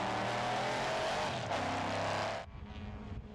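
A classic racing car at the Estoril Classics circuit roars close by with a loud, sustained, high-revving engine note, then drops suddenly to a quieter, more distant drone.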